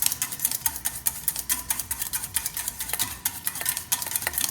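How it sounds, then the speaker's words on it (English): A whisk beats vinegar into oil in a bowl for a cucumber salad vinaigrette, making fast, rhythmic metallic clicks and swishes close up, with no talking. "So now all we are doing is just incorporating the vinegar into this oil"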